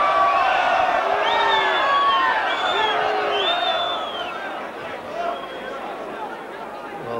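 Rugby league crowd at a France v Great Britain match in Avignon roars loudly with cheers, whistles and whoops that swell, then ease into steadier hubbub, a dense close mass of voices throughout.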